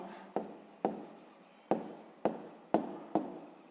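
A pen writes numbers on paper in a mathematics exercise, giving six short, close scratching strokes spaced about half a second apart, with no talking.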